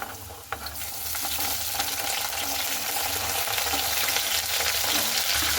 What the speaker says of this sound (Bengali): তো গাজরটাকে দিয়ে একটু ভালো মতো করে নাড়াচাড়া করে নেব